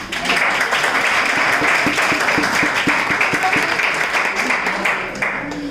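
Audience applause at a poetry and shayari recital at IIT Patna, a dense steady patter of many hands clapping that fills the whole stretch at even loudness, with scattered sharper individual claps standing out.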